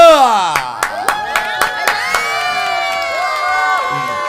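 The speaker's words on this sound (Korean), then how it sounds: "우리 큰 박수로 한번 맞이해주세요" A crowd cheers and shouts while sharp bursts of clapping ring out repeatedly, loud and close, fading into sustained cheering.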